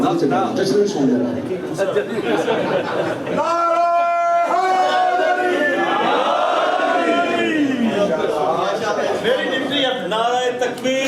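A large crowd at a religious celebration of Shaban honoring Imam Hussain chants slogans in loud unison, with a leader's voice calling and many voices answering in sustained, swelling shouts.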